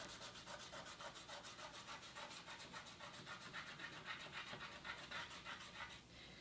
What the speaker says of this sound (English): First I'm going to burnish again.